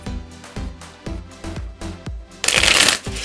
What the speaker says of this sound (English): I'm going to shuffle this up a couple times. Get a good shuffle in there.